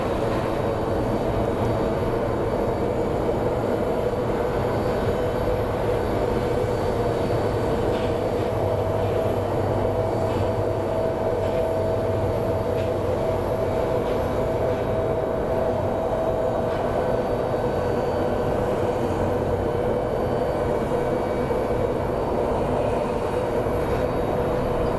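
A 777 or similar airliner rolling along the runway at Phoenix Sky Harbor International Airport, a long steady roar of engines and tire rumble with a sustained mid-pitched whine, constant and loud, without speech.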